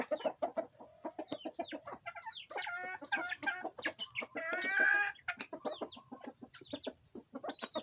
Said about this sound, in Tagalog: Grabing manok na to.